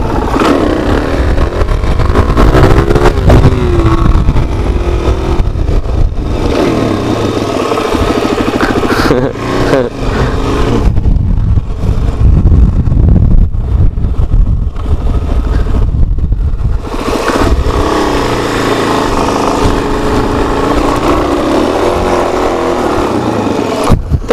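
A Suzuki DRZ400SM supermoto engine roars loudly up close as the rider pulls a wheelie, revving and surging through gears with strong wind rush, then easing off and building again.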